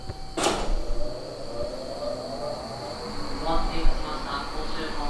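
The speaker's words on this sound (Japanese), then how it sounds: "列車も一旦静かになった後、また何やら音を立てています。" Train in the Kanmon Tunnel between Honshu and Kyushu giving off a steady mechanical hum with a high sustained whine, a sharp burst near the start and faint squeals and rattles over a low rumble.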